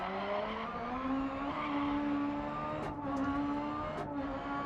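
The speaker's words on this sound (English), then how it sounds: "You can hear the tyres just absolutely desperately trying to find some grip through there as I'm asking them to turn and accelerate" A Super 1600 rallycross car in the DiRT Rally video game, engine droning steadily at high revs while the tyres scrabble for grip through a turn under acceleration, with brief hissing bursts near the end.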